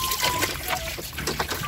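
A pig drinks water on a hog farm, giving wet trickling and splashing slurps in short uneven bursts, close by, with a voice talking over it.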